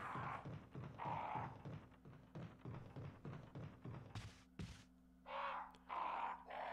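Crows cawing in the video game Resident Evil HD Remaster, a run of repeated harsh caws in steady rhythm with a few thuds mixed in, fairly close and clear with no talk.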